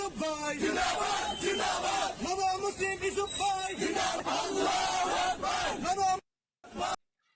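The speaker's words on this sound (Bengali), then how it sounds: "তাকে নিয়ে মিছিল, একদম রীতিমতো মিছিল হচ্ছে" A procession crowd chants and yells rhythmically around a young man, with many voices rising and falling together in repeated bursts, loud and close, before it cuts off abruptly.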